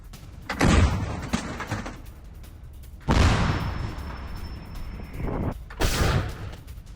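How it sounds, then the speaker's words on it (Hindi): Russian artillery fire in Pokrovsk, Ukraine: three heavy booms a couple of seconds apart, each a loud blast trailing into a rumbling roar. "पोक्रोवस्क में रूसी आर्टिलरी का बड़ा एक्शन देखने को मिला।"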